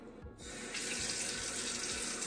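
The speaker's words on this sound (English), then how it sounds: "Should I keep water running?" A kitchen tap runs steadily into a sink while Dominican black rice is being made, a constant close rushing of water after a brief gap at the start.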